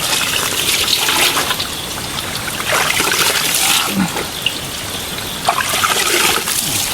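Water trickles and splashes steadily during a final hand rinse of clothes in a mountain setting, with bursts of gushing and sloshing throughout, close and fairly loud.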